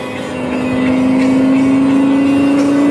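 A 2013 Lexus LFA Nürburgring edition V10 accelerating hard, heard from inside the cabin as a loud, steady, rising engine howl building over a few seconds with no talk.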